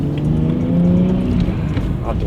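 A BMW 335i E90 with an N55 engine and Pure Stage 2 turbo runs and drives in second gear, its engine droning loud and close with a humming, revving tone, and a voice may be heard alongside.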